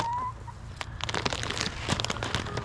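Backyard chickens cluck and squawk excitedly at close range in a busy, overlapping chorus, with scattered sharp calls throughout.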